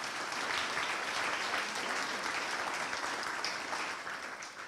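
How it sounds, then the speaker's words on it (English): An education forum audience gives a round of applause, a continuous, even wash of clapping heard from a distance at low level, tapering slightly near the end. "Let's give them a round of applause."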